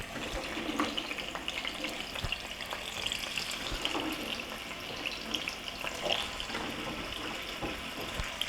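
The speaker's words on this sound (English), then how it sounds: "I think I hear my oil sizzling now." Smoked sausage fries in hot oil in a pan, giving a continuous, moderately loud crackling sizzle with scattered pops and spits and no talking.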